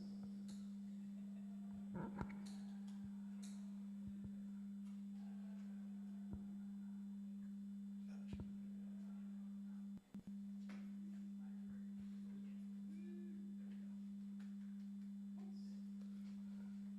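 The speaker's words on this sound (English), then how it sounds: "We are playing a sound. It's a sine wave." A steady, pure electronic sine-wave tone holds at one pitch throughout, faint and constant, with occasional soft clicks and knocks around it, at an electronic music open mic.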